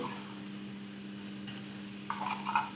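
Onions browning in a pot with whole garam masala, a soft steady sizzle with a low hum and brief stirring scrapes near the end, quiet and close, with no voices.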